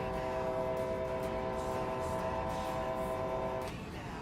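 A train in the Train Sim World 4 video game slows down. It gives a steady, loud, tonal horn-like drone with rail rumble underneath, and the tone cuts out near the end as the sound eases.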